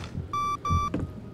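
Electronic door alarm in the horror video game Song of Horror beeping in two sustained tones with a short gap, clear and close over a low ambient rumble.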